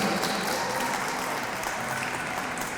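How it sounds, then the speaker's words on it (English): Steady applause from an audience at a Hispanic Heritage Month opening ceremony in Cleveland, a continuous crackle of many hands clapping at moderate level, fairly distant. "let's give them a round of applause"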